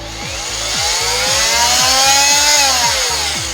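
A Galax Pro 400W oscillating multi tool runs at its highest speed setting, a close, loud, steady high-pitched buzz that holds evenly for several seconds with no talk.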